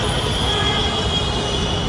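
Delhi Metro train running near Karol Bagh, a steady loud rumble with a high whine of wheels and motors, continuous throughout at close range.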